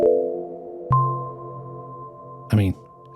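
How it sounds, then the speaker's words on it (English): Pure sine-wave synth tones shaped by an envelope ring out with a long reverberant tail, each new note struck cleanly and left to sustain and fade over a soft wash. "Here's a really, really simple patch that's just a sine wave through an envelope."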